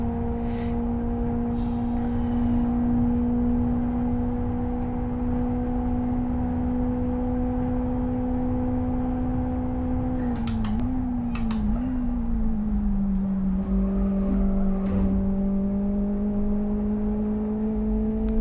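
A race car in the Live For Speed sim hums with a steady, loud engine drone held at near-constant revs, dipping briefly as the car shifts and then settling back, with no voices over it.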